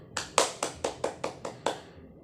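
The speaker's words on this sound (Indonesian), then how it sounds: "Mari kita beri tepuk tangan untuk kelompok 3." A class of pupils claps in unison for a group, eight sharp, evenly spaced rhythmic claps in quick succession, fairly quiet and with no talking.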